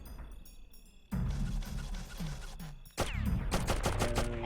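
Gunfire in the video game Oddworld, bursts of rapid shots firing between rooms, loud and close, with a quieter stretch before and a harsh second burst near the end.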